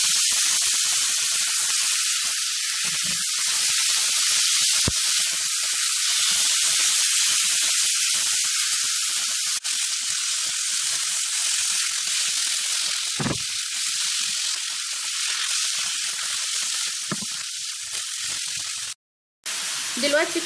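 Chicken pieces sizzle and hiss steadily in a hot pan for a pasta-and-chicken casserole, a loud continuous frying crackle with brief dips and one short dropout near the end.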